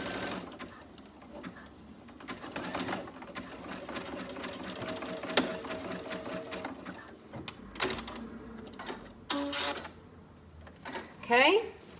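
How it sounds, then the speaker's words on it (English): A sewing machine stitches fabric on either side of a pin in bursts of fast, even mechanical whirring, close and moderately loud, with pauses between runs and a brief voice near the end. "I'm going to pin it, and then I'll sew on either side of my pin."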